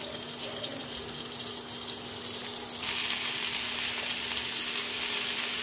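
Cut pointed gourd pieces sizzle in hot oil in a pan, a steady crackling fry that grows louder and fuller partway through, with no talking.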